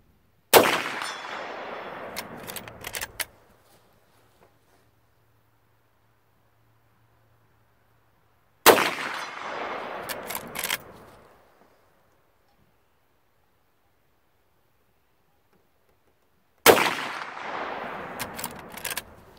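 An unsuppressed Henry Big Boy X lever-action rifle fires .357 Magnum rounds at 100 yards outdoors. Three loud, sharp shots ring out several seconds apart, each followed by a brief ringing echo and then quiet, with no talking.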